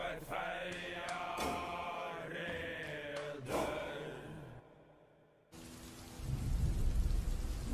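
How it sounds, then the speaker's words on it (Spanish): Rain begins as a soft hiss and swells into a steady, broadband downpour in the final seconds, following a stretch of other sound and a brief near-silence. "La lluvia era lo único que se escuchaba en el lugar."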